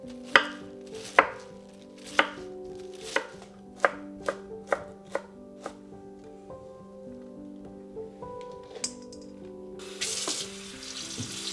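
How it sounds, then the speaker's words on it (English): A kitchen knife chops cabbage on a board for okonomiyaki, giving a steady series of sharp, close chops that thin out. A running faucet rushes in at the very end. "Cut into thin slices, then chop into 1/4 to 1/2 inch pieces"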